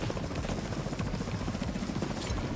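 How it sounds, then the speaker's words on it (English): A helicopter in the video game The Division 2, a loud, continuous rotor chop and engine roar that fills the brief moment without pause. "Chopper at the back, guys."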